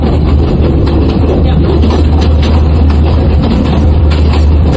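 Steady low rumble and broadband rattle of a running train, continuous and loud throughout, with no voices.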